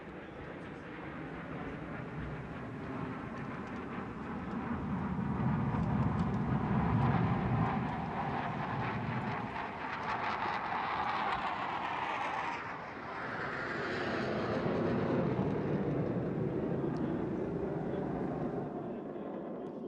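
Phantom fighter jets fly an aerobatic display at a naval event, their engines a loud, continuous roar that swells, dips briefly and rises again as the aircraft pass overhead.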